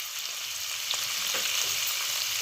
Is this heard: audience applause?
no